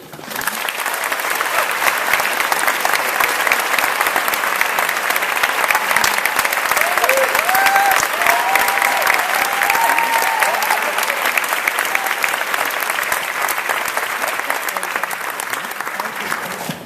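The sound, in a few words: audience applause welcoming Pavel Pawlikowski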